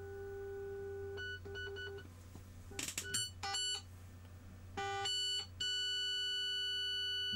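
A modular synthesizer, with a Marbles module sending CV to a Passive Aggressive module, gives off electronic beeps and tones that start as sparse, stepped bursts and thicken into denser sustained patterns, with no talk.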